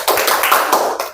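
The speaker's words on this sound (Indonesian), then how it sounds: "kita ice breaking dengan tepuk semangat" A school class does a rhythmic spirit clap (tepuk semangat), a quick series of close, loud, crisp hand claps in a patterned rhythm.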